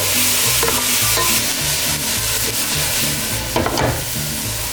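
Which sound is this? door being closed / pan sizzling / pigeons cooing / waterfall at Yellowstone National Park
pan sizzling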